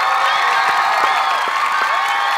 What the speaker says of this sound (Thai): ขอเสียงปรบมือให้กับคุณเก่งนะครับจากทีมโค้ชจอยบอย